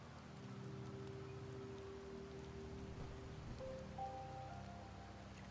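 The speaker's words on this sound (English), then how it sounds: "The rains in Septimont never seem eager to leave this season." Steady rain falls in the Wuthering Waves video game as a soft, even hiss lasting the whole stretch, with faint tonal game sounds layered over it and no talk.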